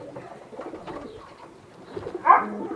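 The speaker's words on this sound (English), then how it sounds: "Here we have some of the birds in here." Stock pigeon hens in a loft shed, mostly faint soft murmuring, then one louder, close coo near the end.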